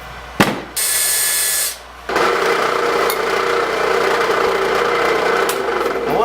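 A drill bit bores into 1-inch aluminum while building a bandsaw mill, opening with a sharp knock, then a brief high whine, then a loud steady grinding drone close by.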